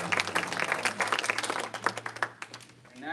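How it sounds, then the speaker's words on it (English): A room of community members at a senior presentation applauds, a loud burst of dense clapping that thins toward the end, with a low steady hum underneath. "Yes, clap for yourselves."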